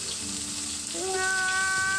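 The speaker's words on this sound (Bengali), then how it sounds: "এক সাইড ভাজা হয়ে গেলে মাছটা আবার উল্টে অন্য দিক ভাজতে হবে।" Fish frying in a pan gives a close, steady sizzle throughout, while a sustained tonal whine rises and layers on top about halfway through.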